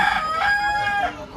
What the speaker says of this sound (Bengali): এইখানে ফাউমি মুরগি, সোনালী মুরগি